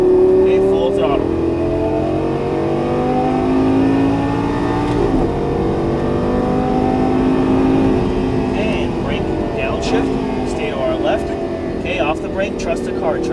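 A Lamborghini Gallardo LP550-2 accelerates hard at full throttle on a track, its engine note rising loud and close through repeated sweeps as a voice talks over the roar throughout.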